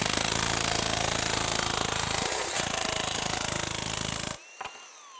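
Milwaukee M12 nibbler spinning up and running on auto, a loud, dense mechanical buzzing and rattling that holds steady for about four seconds, then cuts off abruptly, leaving a couple of faint clicks.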